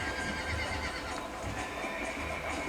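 In the Western game Red Dead Redemption, a horse neighs and whinnies under hoof clip-clop, steady and moderately loud across the short stretch with no clear talk.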